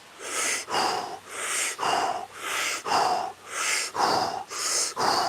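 Deep, rhythmic breaths during a guided belly-breathing exercise, heard close and clear, with about nine strong airy exhales in a steady cycle and short pauses between them.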